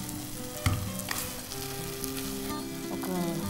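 Boiled green moong sprouts fry in a pan with potato and carrot paste for a sprouts curry, giving a steady close sizzle with scraping stir strokes, one sharp clatter near the start, and no talking.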